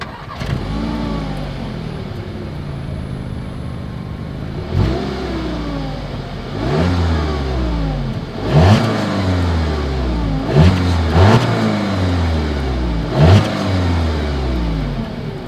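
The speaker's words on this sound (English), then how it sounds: "As always, here is that exhaust clip." A 2020 Audi A3 with dual exhaust idles, then revs several times, each rise and fall in pitch loud and close, with short blips toward the end.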